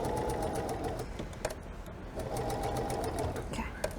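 A sewing machine stitches a quilt block seam in two steady whirring runs, with a brief pause between them, close and loud, with small clicks of handling. A voice can be heard faintly beneath the motor.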